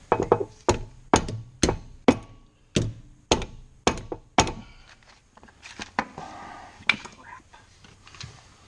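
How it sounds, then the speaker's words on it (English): Tie rods on a Chevy Yukon struck hard with a hammer, about nine sharp, evenly spaced metallic blows that close together, followed by a few scattered knocks and shop clatter. "Hammer."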